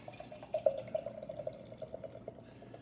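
Beer is poured into a glass, a soft liquid gurgle with a faint rising tone as the glass fills. It stays quiet and close throughout.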